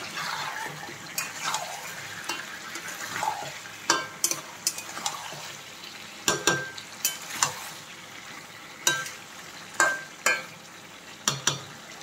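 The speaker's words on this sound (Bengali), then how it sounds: "এখন আমি দিয়ে দিলাম টমেটো, আর দিয়ে দিলাম কেটে রাখা আলু, দিয়ে ভালো করে কষিয়ে নেব।" Tomatoes and cut potatoes sautéed in a pan for a desi chicken curry, with a steady low sizzle and a series of sharp scraping stirs and clinks of the spoon against the pan, close and alone.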